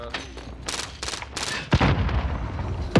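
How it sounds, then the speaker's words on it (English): Gunfire in a Call of Duty Warzone Rebirth Island match, with a burst of rapid shots followed by two sharp, loud close reports amid ongoing game noise. "Oh, I'm being shot."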